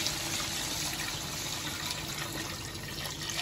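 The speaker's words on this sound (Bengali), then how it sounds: "মাংসটা কষানো হয়ে গেছে, এখন আমি জল দিয়ে দিব, দিয়ে দিলাম।" Water pours steadily into a pot of braised meat, a continuous splashing gush that stays even and fairly quiet throughout with no voices.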